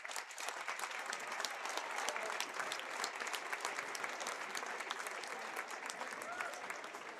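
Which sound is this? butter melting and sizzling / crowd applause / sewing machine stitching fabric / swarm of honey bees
crowd applause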